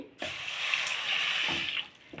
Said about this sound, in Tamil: இப்போ இதுக்கு ஒரு டம்ளர் தண்ணி ஊற்றி